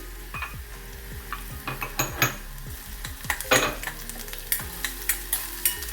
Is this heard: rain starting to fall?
no